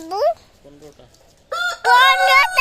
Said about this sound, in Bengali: এই যে যে আমাদের বড় মুরগি আমাদের কয়টা বড় মুরগি আছে